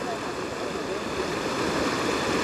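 Large volume of São Francisco river water rushing into the Castanhão reservoir, arriving from Jati, as a steady, loud broadband roar of flowing water without pause.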